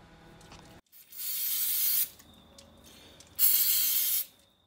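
Aerosol carb cleaner sprayed onto the end cover and diaphragm of a Stihl 036 chainsaw carburettor comes as two close, loud hissing bursts, each about a second long, with a short pause between.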